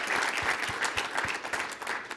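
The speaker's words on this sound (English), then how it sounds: "So round of applause for them" An audience at the AAU Sullivan Award ceremony claps in steady, moderately loud applause for a couple of seconds, with individual hand claps standing out from the roar.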